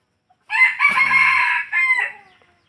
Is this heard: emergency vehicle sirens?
no